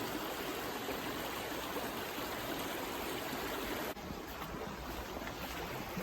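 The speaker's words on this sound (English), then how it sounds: "It's a little bit of a waterfall there." Steady rushing water from a small waterfall, a continuous broadband splash that stays constant throughout with no voices.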